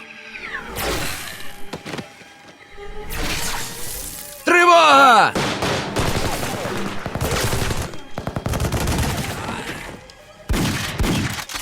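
A gunfire shootout from the Fallout: Nuka Break fan film: repeated bursts of shots crack out in clusters across the scene, loud and close, mixed with people talking and other action noises.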